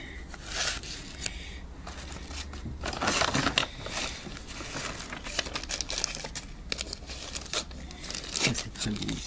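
Paper being crumpled and handled close by, a crisp irregular crinkling and rustling with sharper tearing-like bursts, continuous throughout.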